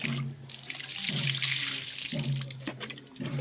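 Water pours steadily from a tap while papaya is washed at a farm, making a close, continuous splashing with a faint low hum underneath.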